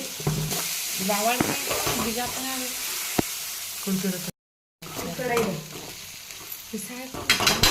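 Tomatoes and turmeric hit a hot pan in a kitchen, giving a loud continuous sizzle and fry with stirring scrapes and a brief cutout midway.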